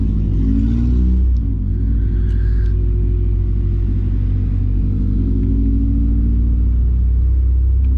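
Honda H22-swapped car engine revs up and holds high, a loud, close, deep rumble with a rising then sustained tone and no talk.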